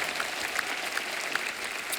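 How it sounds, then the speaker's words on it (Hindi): Studio audience clapping on The Kapil Sharma Show, a steady dense wash of applause across the whole stretch with a few sharper claps standing out. "एक बार जोरदार तालियां"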